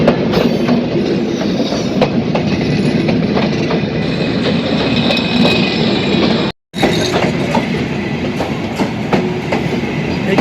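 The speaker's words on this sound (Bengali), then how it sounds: "এই যে ট্রেনের কথা বলতেছিলাম, ট্রেনটা অলরেডি চলে আসছে" A passenger train bound for Poradaha station rolls through a level crossing at Moynagari, its loud, continuous rumble and clattering wheels close by for the whole stretch, broken only by a brief cut partway through.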